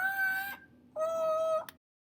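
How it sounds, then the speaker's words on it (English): Imperial Amazon parrot calls: two loud, drawn-out squawking tones separated by a short gap, each about half a second long, harsh and close, heard alone without speech. "Imperial Amazon."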